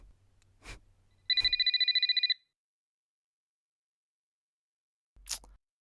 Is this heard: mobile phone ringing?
yes